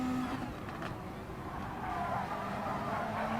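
A Volkswagen race car engine drones steadily in a GT Sport endurance race on the Nürburgring Nordschleife, a continuous, fairly loud engine tone with slight shifts in pitch.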